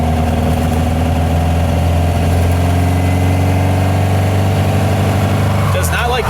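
A 1955 VW Beetle with a 2276cc engine cruises on the road, its steady, loud engine drone filling the cabin continuously, with a brief rustle near the end.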